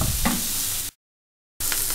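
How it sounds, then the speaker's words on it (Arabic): Minced meat, about 200 grams, sizzling loudly in a pan with vinegar as it is stirred, a steady close frying hiss broken by a sudden gap of silence before resuming. "عندنا حوالي 200 جرام لحمة مفرومة هنحطهم وهنقلبهم كويس"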